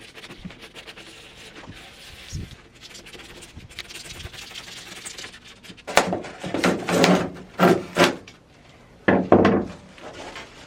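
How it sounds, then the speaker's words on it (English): Handsaw cutting the corner of a wooden van subfloor panel, heard first as light scraping and then as several loud, rhythmic rasping strokes near the mic, alone without talk. "I still have to cut the corner over there"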